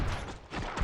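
Gunfire in the PC video game RoboCop: Rogue City: a short, loud burst of rapid shots with harsh, noisy blasts crowding together over less than a second.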